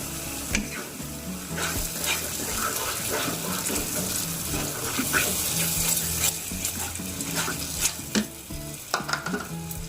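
A cashew and tomato paste for paneer butter masala fries and is stirred in a pan, giving a continuous, close sizzle broken by scraping and clattering spoon strokes.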